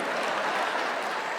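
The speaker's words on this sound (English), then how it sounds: "Y'all brothers better be clapping too." An audience claps steadily at a TPUSA America Fest conference speech, a dense, even wash of applause that fills the whole brief moment with no talking over it.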